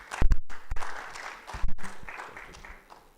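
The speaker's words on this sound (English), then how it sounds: "Can we give him a hearty round of applause here?" Scattered applause from an audience at a public health launch event in Africa, a few loud claps early then thinning, fairly sparse and brief rather than a full ovation.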